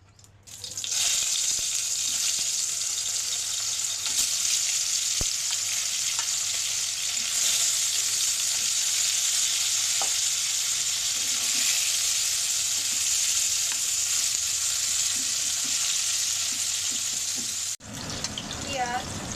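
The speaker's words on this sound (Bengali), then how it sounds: "এখন মাছগুলো ভেজে নেব।" Snakehead (shol) fish pieces frying in hot oil give a steady, loud sizzle that holds for most of the clip and then drops away near the end, with no talking over it.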